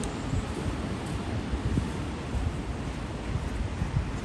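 Pacific Ocean waves wash onto a Japanese shore as a steady, dense roar, with wind buffeting the microphone throughout. No voices.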